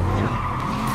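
Car tires squeal and skid loudly and continuously in Marvel's Spider-Man video game, a sustained screech over a low engine rumble, close and steady throughout.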